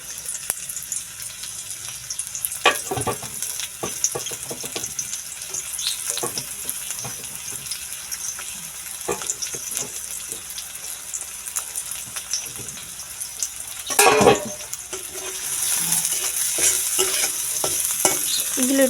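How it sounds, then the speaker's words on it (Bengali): Chopped onion and green chilli fry in hot oil while being stirred for egg noodles, making a steady, fairly loud sizzle with repeated spatula scrapes and clicks, plus a brief louder clatter midway. "এবার এখানে পেঁয়াজ কুচি আর ঝাল কুচিগুলো দিয়ে দিলাম।"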